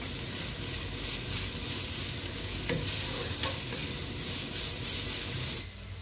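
Cabbage and carrot thoran stir-fries in a pan on high flame: a continuous loud sizzle with scraping stirs throughout, a couple of sharper spoon knocks midway, and the hiss suddenly drops off near the end.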